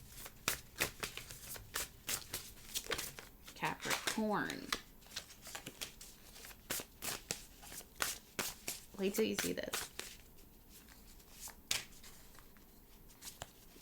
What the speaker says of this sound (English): Let's go ahead and shuffle and pull.